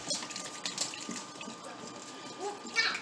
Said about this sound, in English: So I'm adding my chicken broth. I would use a whole container. And this is bone broth